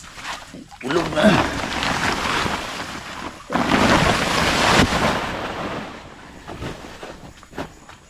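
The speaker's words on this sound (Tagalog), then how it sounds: "Kulog na." Thunder rolls in a long, loud rumble through a rainy outdoor scene, swelling mid-way under people talking nearby.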